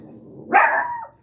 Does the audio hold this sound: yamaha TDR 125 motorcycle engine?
no